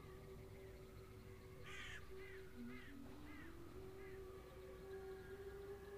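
Crow cawing in the Second Life virtual world at Hackberry Hall, a run of four or five harsh caws in quick succession, moderately distant, over a steady droning hum and rising tone.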